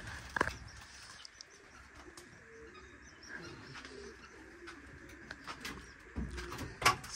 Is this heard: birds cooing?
yes